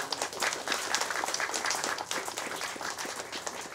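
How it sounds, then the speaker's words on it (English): A crowd applauds steadily at a welcoming ceremony for a voyaging canoe in Palau, dense overlapping claps sustained throughout without a break. "give the crew a big round of applause"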